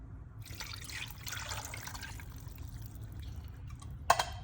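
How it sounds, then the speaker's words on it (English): Beef broth pours into an Instant Pot holding chopped chuck roast, a soft, close trickling and splashing of liquid that builds gently, ending with a few sharp clinks. "Now we're gonna add 1 cup of beef broth"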